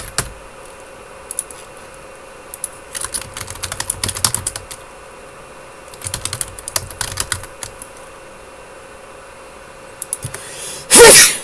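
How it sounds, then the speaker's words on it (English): Scattered soft keyboard-like clicks come in uneven bursts, then a single loud, sharp sneeze bursts out at the very end. "Why am I sneezing?"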